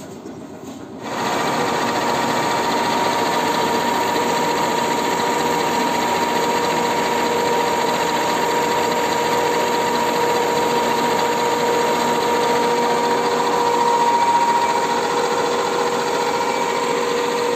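A lathe cuts 3 mm off a Yamaha F1ZR motorcycle cylinder head, giving a steady, close machine whine with a faint metallic ring. It starts abruptly after a second and holds an even level throughout, with no talking.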